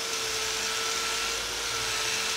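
A soft, fast-cutting Vortex abrasive wheel grinds down and finishes a weld, giving a steady, continuous whirring hiss with a faint whine, close and loud with no pauses.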